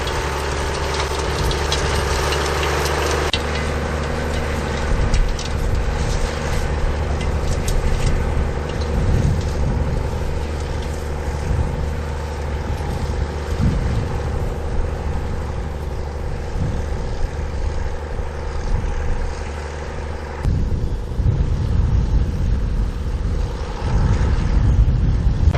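A vintage Roadless tractor engine drones steadily and loudly while ploughing, a low rumbling labour with slight surges near the end, no voices.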